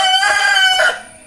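A rooster crows close by near a pigeon loft, one loud, strained call lasting about a second before trailing off, with no other sounds.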